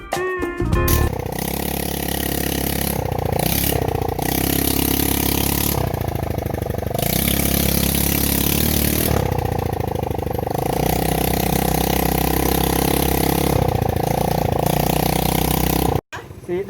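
A motorbike engine runs and revs continuously on a rough road, loud and close, with throttle swells and dips throughout; a voice talks over it in places.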